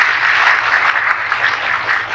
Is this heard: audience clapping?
yes